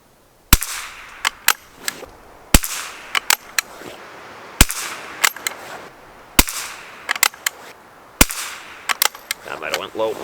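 A Schultz & Larsen Otterup rifle fires .22 LR Eley Sport ammunition outdoors, sharp close cracks spaced a couple of seconds apart with fainter pops and clicks between them.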